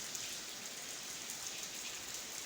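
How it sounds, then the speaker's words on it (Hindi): Steady rain falls in a residential street on a monsoon day, an even, faint broadband hiss of drops with no pauses and no voices. "आज फिर बारिश हो गई है"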